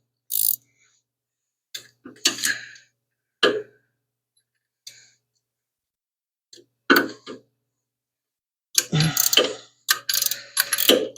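Ratchet wrench working a bolt loose on a Plymouth Duster, heard as short bursts of rapid clicking separated by silent pauses, ending in a longer run of clicks.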